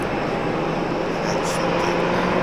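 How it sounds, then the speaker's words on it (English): A United airliner taxis to its gate at Raleigh-Durham International Airport, heard as a steady loud engine whine and rumble that holds without a break; no voices. "It's just United pulling into its gate."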